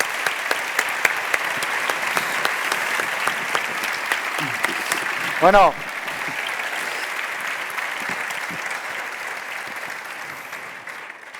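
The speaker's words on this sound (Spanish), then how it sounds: "os pido un fuertísimo aplauso" An audience at a talk on Spanish housing prices claps loudly and steadily, a dense wash of applause that thins toward the end, with a brief spoken word partway through.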